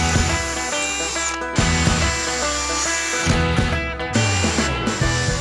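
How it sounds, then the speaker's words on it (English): A power drill bores pilot holes through plywood boards for shelving, a close, steady whining motor in long bursts with brief pauses between holes. "what I want to do is go ahead and pre-drill holes through our plywood"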